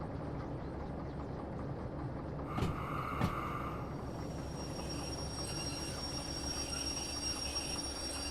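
A locomotive in the railway game Derail Valley rolls along the tracks with a steady low rumble and rail noise, with brief squeals and clanks midway and a faint high whine continuing afterward.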